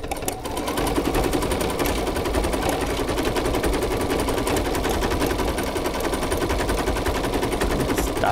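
Bernina 830LE sewing machine stitching a buttonhole, a fast, steady mechanical rattle running unbroken for several seconds, close and fairly loud after a brief start.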